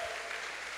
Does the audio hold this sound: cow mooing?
no